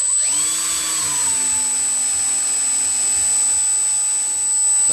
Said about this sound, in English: I'm gonna let you guys hear the motor a little bit.